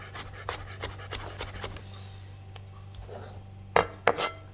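A knife slices a garlic clove on a cutting board, making quick, light taps and clicks in an uneven rhythm. The taps fade briefly in the middle, then return as a few louder, sharper cuts at the end.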